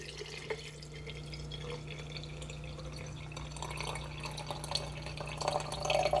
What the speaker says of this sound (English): I am gonna go ahead and add my water.